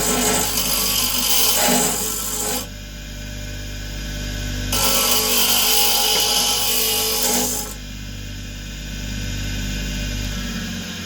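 A grindstone smooths down a small part for a late-'60s-style Strat guitar build, giving two loud, close bursts of harsh abrasive grinding, each lasting a few seconds, separated by quieter stretches of motor hum.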